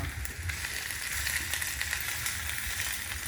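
Onion and garlic sizzle in a hot pan over a gas flame, a steady close broadband hiss of frying with faint crackles, continuous and alone.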